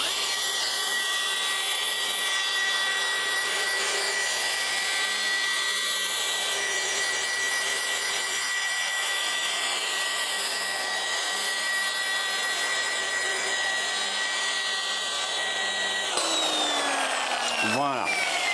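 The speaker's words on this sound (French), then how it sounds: "on va faire une passe croisée avec cette rotative et ce polish." A rotary polisher runs at about 1100 rpm with polish, cutting a car's hard clear coat in crosshatch passes. It gives a loud, continuous close whine with steady whirring tones, then winds down sharply near the end.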